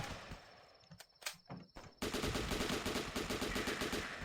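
Rapid automatic gunfire rips through zombies in The Last Stand game, a few scattered shots first and then a sustained, dense burst of machine-gun fire, loud and continuous.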